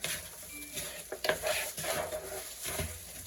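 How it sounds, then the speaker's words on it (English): Seasonings being stirred into honey BBQ sauce for ribs, with soft scraping, clinking strokes of a utensil against a bowl, close and quiet, in irregular bursts. "Mix all the seasonings in."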